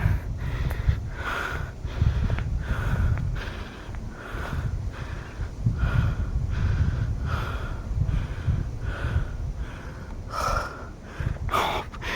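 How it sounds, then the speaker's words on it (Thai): Heavy, rhythmic panting after climbing a steep hill to a summit at an abandoned cave monastery in Lopburi, with repeated breaths, some sharp gasps and snorts, close and fairly loud with no talk. "หอบเลย"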